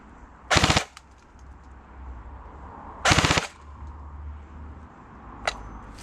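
Cyma CM.009C M16 airsoft rifle firing two short rapid bursts, a few seconds apart, each a fast rattle of shots, followed by a single brief shot, over low background hum at a range.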